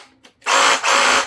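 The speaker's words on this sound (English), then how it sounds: "so it's a regular Ryobi Sawzall or reciprocating saw." A brushed Ryobi reciprocating saw is triggered in two short bursts of harsh buzzing motor noise, close and loud, with a brief pause between them after a faint click.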